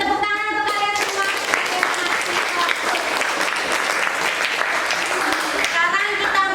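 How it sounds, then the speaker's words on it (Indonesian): A class of students applauds together, steady dense clapping filling the room for several seconds with a few voices calling out over it. "tepuk tangan untuk kalian semua"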